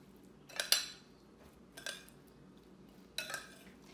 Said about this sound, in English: We're gonna stir that up to evenly coat the cauliflower.